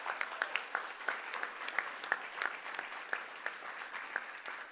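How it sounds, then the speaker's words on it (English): Clapping for teachers at an 8th grade promotion ceremony: a fairly quiet room of hands applauding, with distinct individual claps standing out in an irregular, sparse rhythm. "Let's give them a round of applause."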